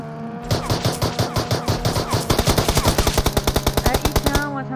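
Rapid bursts of automatic gunfire in a shooting video game, loud and close, with rhythmic shots speeding into a dense rattling volley over a few seconds, with excited voices mixed in.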